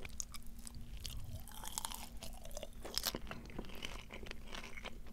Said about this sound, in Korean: 5번 치킨이 지금까지 먹은 치킨의 튀김옷 중에서는 제일 바삭바삭했어요